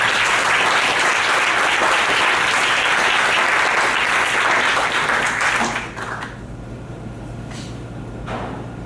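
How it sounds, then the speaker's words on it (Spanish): A loud, dense burst of audience applause greets a guest, a football film producer, at a panel discussion during a football film festival, continuous for several seconds before thinning out into a few scattered claps. "Lo recibimos con un fuerte aplauso,"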